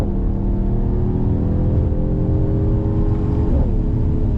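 A 2021 Mercedes-AMG GT 43 sedan accelerates hard from second gear with fast shifts. The engine holds a loud, steady, close drone that climbs in pitch, then drops briefly at a quick shift near the end, with no speech.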